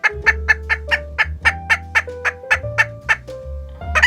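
Broody hens give a rapid series of loud, close clucks and throaty calls in a regular, pulsing rhythm, about a dozen sharp bursts over four seconds with no talking.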